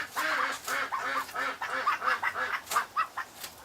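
Ducks in a pen quacking in a series of close, rhythmic, moderately loud calls, several birds overlapping with no talk.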